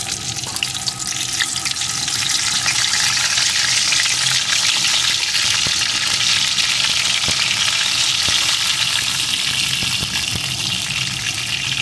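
Cut and washed pointed gourd (potol) frying in hot oil, a steady, loud, close sizzle that holds unbroken throughout with faint stirring, no voices.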